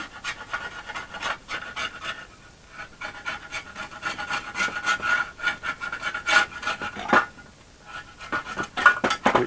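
Old gasket material scraped off a Reliant Robin rocker cover, heard as rapid rhythmic rasping strokes close by, quiet and uneven with short pauses between bursts.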